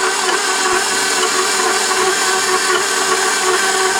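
An electric stand mixer running on low speed, breaking up boiled potatoes: a steady, loud motor whir that holds even for the whole stretch, with a faint soft knock near the start and no talking.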